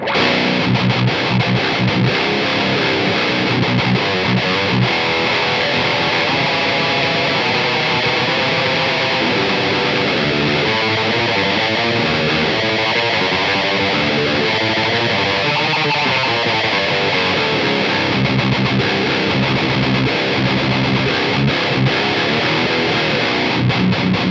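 An electric guitar played through an Aurora DSP Laboga Mr. Hector amp simulator, set to a heavily distorted tone. It rings out in loud, dense, sustained chords and riffs with no voice.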